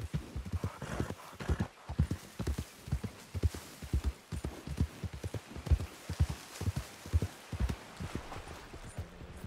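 Horse hooves clip-clop steadily in Red Dead Redemption 2 while riding, a close, rhythmic trot of evenly spaced thuds that runs the whole way through, with a faint whinny early on.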